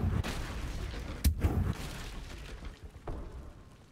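The Confringo fire spell goes off in Hogwarts Legacy as a sudden booming blast with a rumbling tail, followed by a smaller impact a moment later, amid the game's ongoing ambient noise.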